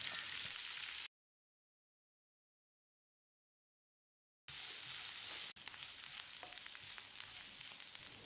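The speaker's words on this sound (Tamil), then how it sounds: "வெங்காயத்தை கண்ணாடி பதத்துக்கு வதக்கிடலாம்." Steady sizzling of onions sautéing in a pan, with a gap of silence partway through before the hiss resumes, loud and close.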